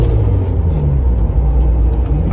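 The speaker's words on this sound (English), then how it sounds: "you can hear it making boost and blowing off" Turbocharged engine of a Mercury Capri RS, an SVO car with a misfire or skip, running under boost with a steady close low rumble and faint blow-off hiss bursts throughout.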